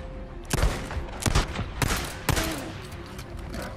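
Gunfire at a grizzly bear in the video game Days Gone, several loud close shots fired in quick uneven succession, each sharp crack trailing off briefly.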